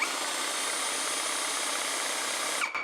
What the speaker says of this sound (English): you're basically priming it. And you can see that it's pumping back into this cup here